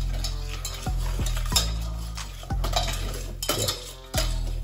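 Flour and butter cooking together in a pan for a cheese sauce, with a utensil stirring and scraping against the pan in repeated strokes over a soft sizzle, close and fairly loud, with no talking.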